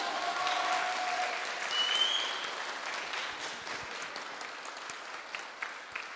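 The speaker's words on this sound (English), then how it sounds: "Can you please give them another round of applause" Crowd applause at a children's day event in Grangemouth rings out steadily for about six seconds, loudest early on and tapering slightly, with a few whistles and cheers mixed into the sustained clapping.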